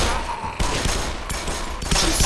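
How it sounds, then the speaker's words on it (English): Rapid gunfire in the video game Black Mesa, fired at headcrabs, a dense loud burst of shots with brief breaks, filling the whole stretch. "Look at me wasting all this ammo on head crabs."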